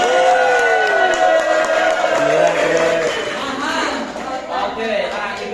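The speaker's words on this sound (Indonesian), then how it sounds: "Oke, tepuk tangan." A classroom of students applauds and cheers during an active-learning lesson, with loud, close clapping mixed with excited voices and chatter.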